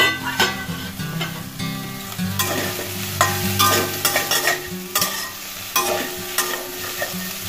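Food sizzles loudly in a new steel kadai as a utensil scrapes and stirs it in repeated, close strokes, with no talking.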